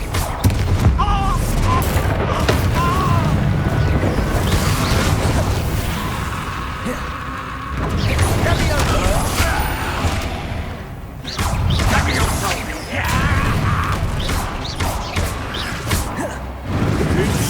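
Repeated spell casts in the video game Hogwarts Legacy, including the Incendio fire spell: loud booms, crashes and whooshing bursts in several waves with brief lulls between, dense combat noise throughout.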